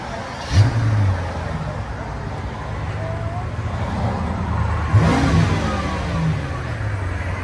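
A straight-piped Mercedes CL 600 with a loud, raspy engine that idles roughly, then revs sharply twice, near and loud, with no talking over it.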